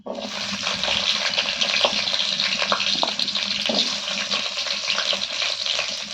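Cut potatoes dropped into hot oil with fried tempering spices for a vegetable chorchori give a steady, loud, continuous sizzle and hiss that holds evenly throughout with no talking.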